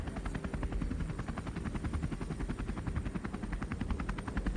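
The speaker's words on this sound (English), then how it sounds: "noisy because of the helicopter blades" Rhythmic thumping of helicopter rotor blades, steady and continuous with a fast, even chop, fairly close and unaccompanied by talk.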